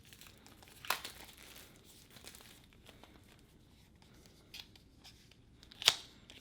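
Plastic packaging for a Sabrent vertical SSD mount being torn and crinkled open, two sharp close rips standing out over quieter rustling, no talking.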